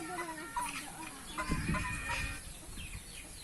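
Clucks and short calls from a fighting rooster kept for cockfights at a cockpit, close and moderately loud with a few scattered bursts and faint background noise.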